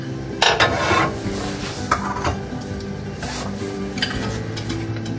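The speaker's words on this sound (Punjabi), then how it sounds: "ਉਸ ਤੋਂ ਬਾਅਦ ਆਪਾਂ ਹੁਣ 2 ਚਮਚੇ ਘਿਓ ਪਾਵਾਂਗੇ ਅੱਗੇ ਆਪਣੀ ਕੜਾਹੀ ਦੇ ਵਿੱਚ।" Two spoons of ghee melt in a kadai as it is stirred, with a low sizzle under repeated metallic scrapes and clinks of a spoon against the pan.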